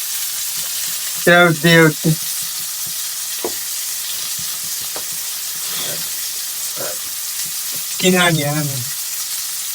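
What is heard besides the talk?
fish frying in a pan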